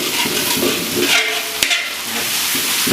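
Chilies sizzle in hot oil in a pan, a loud steady crackle with a spatula scraping and stirring through it, one sharp clack near the middle.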